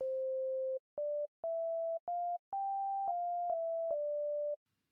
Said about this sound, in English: the sine wave is a very soft sound